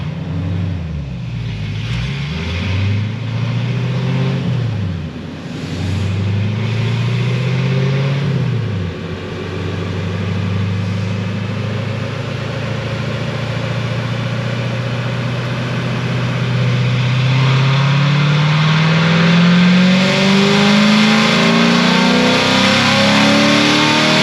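Supercharged C7 Corvette with headers revving: several sharp throttle blips rise and fall early, then the engine climbs into a long, sustained high-rpm pull, loud and close with no talking.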